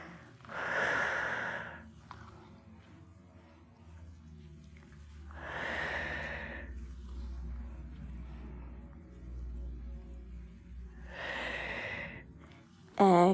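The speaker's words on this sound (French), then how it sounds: "Écoutez bien le son de votre respiration." Slow, deep breaths during a gentle yoga session for breast cancer recovery: three long, airy breaths spaced about five seconds apart, close and soft, over a faint low rumble.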